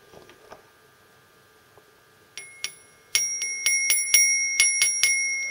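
A homemade Meccano electromagnetic bell with a vibrating clapper strikes in bright metallic dings, a few sparse hits at first and then a fast, steady run of loud, close rings.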